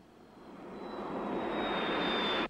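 Gas turbine engine of the 1956 GM Firebird II concept car running at about 26,500 RPM, a steady broadband jet-like roar with a thin high whine, swelling gradually louder before cutting off abruptly.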